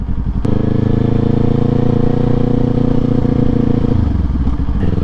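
A Kawasaki Z400 sport bike engine drones loud and close on a bumpy road, holding steady revs for several seconds before the pitch drops as it downshifts near the end.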